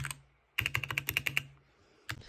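Mechanical keyboard typing, a quick burst of about a dozen close, crisp keystrokes after a brief pause, then another stroke near the end, with no talk.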